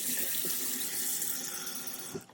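Tap water runs steadily over shredded potatoes in a sink, a loud continuous splashing rush that holds evenly before cutting off abruptly at the end.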